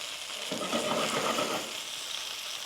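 Oil sizzles and crackles steadily as chicken breasts fry in a pan, a bright hissing spatter that swells briefly in the middle before settling back.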